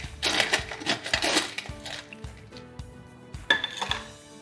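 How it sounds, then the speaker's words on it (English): Ice cubes clinking and rattling into a glass or shaker for a strawberry basil cocktail, a cluster of bright clattering hits, then quieter knocks and a final sharp clink, close up. "Right, add some ice to this."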